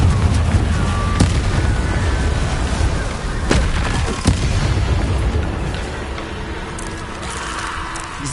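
A Confringo fire spell in Hogwarts Legacy bursts with several booming blasts over a loud continuous rumble of game noise, with sharp impacts near one, three and a half and four seconds.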